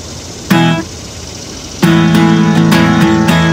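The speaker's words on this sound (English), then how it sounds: "there's these little stabs that sound like this" Short guitar chord stabs from a pre-chorus-to-hook part of a song: one brief stab, a pause, then a run of sustained, rhythmically re-struck chords played loud and close, with no voice.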